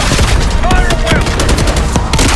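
Dense gunfire in Call of Duty Black Ops 6 rattles loud and continuous, rapid overlapping shots and bursts filling the scene with no pause.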